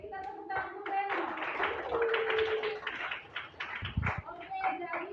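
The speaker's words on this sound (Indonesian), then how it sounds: "kita tepuk tangan dulu, Reno" A classroom of students applauds together, a dense run of hand claps filling most of the clip under a teacher's voice, with scattered individual claps near the end.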